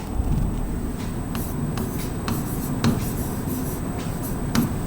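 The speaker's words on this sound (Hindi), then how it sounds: "थोड़ा साफ सुथरा लिख दूं।" Chalk or marker strokes on a board in a Hindi-medium basic chemistry lesson, a steady run of faint scratchy scrapes over a quiet room hum with no voice.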